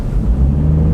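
A Nissan 350Z engine while driving gives a steady low rumbling drone from inside the rear-wheel-drive car, loud and continuous for about a second, with no talk.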